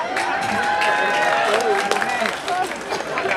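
Audience at an outdoor religious talk in Tumpang, Malang breaking into applause mixed with cheering and crowd babble, loud and sustained under a high shouted voice.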